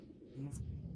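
Pigeon cooing at a busy open-air bird market selling pigeons, a short low coo rising midway under crowd noise and nearby talk.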